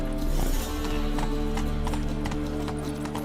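Roach, the horse in the video game The Witcher 3, gallops with a rapid, even clip-clop of hooves over a low rumble, close and steady for a few seconds.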